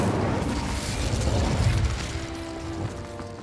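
An Incendio fire spell cast in Hogwarts Legacy, a loud, sustained rushing burst of flame with heavy low rumble that stays broad and noisy throughout.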